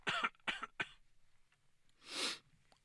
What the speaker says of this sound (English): Cough it out.